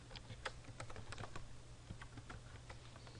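An email address being typed on a computer keyboard, a quick, steady patter of soft key taps close by over a low electrical hum.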